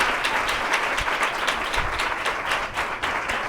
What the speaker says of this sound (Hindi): तालियां हो जानी चाहिए यीशु